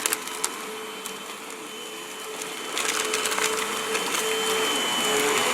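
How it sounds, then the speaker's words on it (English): A vacuum cleaner running while being pushed over grass, a steady whine with scattered crunching and clattering debris hits, growing louder and busier partway through. "Go ahead. Start vacuuming."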